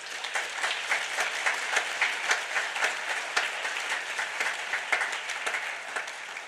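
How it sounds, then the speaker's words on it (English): Sustained applause from a large conference audience welcoming new member countries at a treaty governing body session, dense steady clapping throughout with no talk. "A big applause to them."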